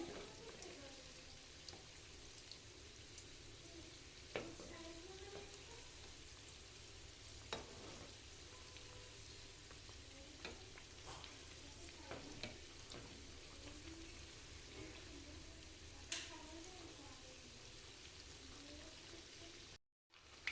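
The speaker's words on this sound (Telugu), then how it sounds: "ఒకవైపు కాలిన తర్వాత రెండో వైపుకి టర్న్ చేసుకోవాలి రెండు వైపులా క్రిస్పీగా అయ్యే వరకు కాల్చుకోవాలి" Chana dal masala vadas fry in hot oil with a faint, constant sizzle and crackle and an occasional small tap or stir, quiet and close.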